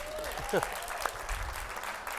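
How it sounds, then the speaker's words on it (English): Audience at a business and entrepreneurs event clapping briefly, a short burst of applause mixed with murmuring voices in the room. "Give him a round of applause for that."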